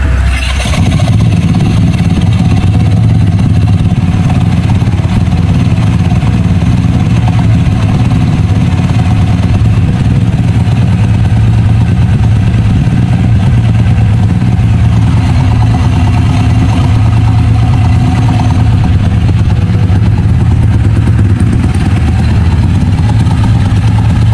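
A scooter engine runs steadily at close range, a low continuous rumble with slight rises in revs, no voices present.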